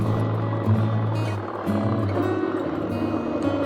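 A 2025 Honda X-ADV scooter in Power Mode drops two gears in quick succession, its engine drone stepping up in pitch twice under engine braking, a close, steady mechanical hum with wind noise.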